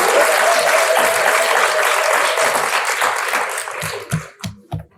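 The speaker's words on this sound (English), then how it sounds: "Let's keep giving him a round of applause as he comes downstairs." Loud, dense audience applause from a crowd at a university public speaking championship fills the hall, then thins into scattered claps that trail off at the end.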